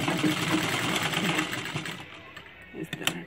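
A sewing machine stitches a dhoti shalwar in a continuous close, even whir that runs nearly the whole time, then gives way to a few sharp handling clicks at the end.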